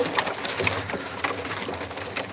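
Baltacı pigeons coo softly in a loft, giving a few faint, scattered calls over a steady low background rustle.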